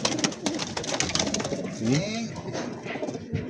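Several pigeons in a loft coo close by, with a distinct rolling coo standing out, while people talk in the background.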